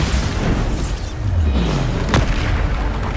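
A Bombarda blasting spell explodes in Hogwarts Legacy with a heavy, booming low rumble that swells and decays, followed by a sharp crack, loud and close.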